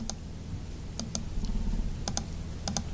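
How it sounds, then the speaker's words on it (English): Computer keyboard typing in an office software session, a few sparse, quiet clicks of keys in small clusters over a low room hum, no voices. "just click anywhere, start typing"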